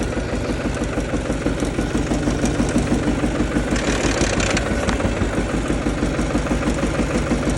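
A Xingtai 220 tractor engine runs steadily at idle, a loud, close, continuous diesel chug with an even rhythm throughout and no talk over it.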